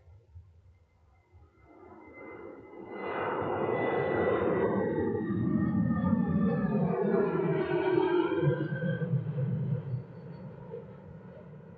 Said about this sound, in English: Beautiful sight there of that Boeing 737.